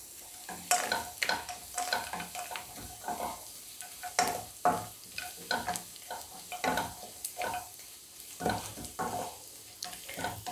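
Cashew nuts sautéing in a pan for Kerala-style egg curry, with a steady sizzle broken by repeated sharp scraping stirs of a spoon, close and fairly loud, no talking.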